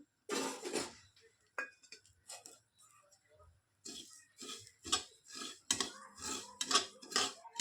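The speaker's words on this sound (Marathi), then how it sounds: "सारणाची तयारी करून घेऊ खसखस भाजून घेऊ" Poppy seeds roasting in a pan over low flame, with scattered light scraping and ticking of a utensil stirring them, close and fairly quiet, in irregular short strokes.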